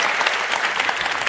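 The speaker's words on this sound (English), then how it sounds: "Give yourselves a round of applause" Brief burst of loud audience applause at a talk on speaking so people want to listen, dense and close clapping from a large crowd filling the whole moment.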